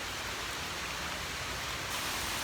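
Rain falls steadily on a wooded nature trail near Sugarlands Visitor Center in Gatlinburg, Tennessee, a constant broadband hiss that stays even and fairly loud throughout with no voices.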